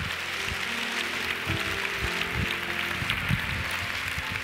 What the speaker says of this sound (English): Now come on and give Him one more clap offering of praise in this place.